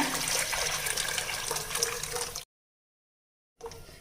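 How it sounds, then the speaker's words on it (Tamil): Fish curry mixture pours into a pan of fried onions and tomatoes, a continuous close splashing liquid rush that cuts off to silence, then resumes briefly; no voices. "இப்போ நம்ம கலந்து வச்சுருக்க குழம்பு கலவையை இதில் ஊற்றிடலாங்க"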